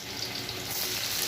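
Garlic sizzles in hot cooking oil in a wok for beef igado, giving a close, steady, even crackle of frying with no voices over it.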